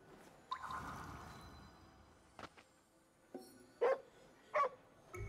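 Dog barks from Ghostwire Tokyo ring out in short bursts, with two sharp, louder yaps near the end over quiet game ambience.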